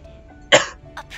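A single sharp cough, close and abrupt, followed by a couple of softer breathy sounds.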